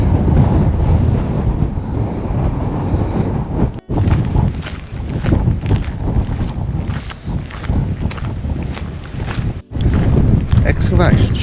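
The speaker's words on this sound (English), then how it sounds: "and it is very windy" Heavy wind on Anglesey buffeting the microphone in strong, rumbling gusts, with brief dropouts and a voice faintly mixed beneath the roar.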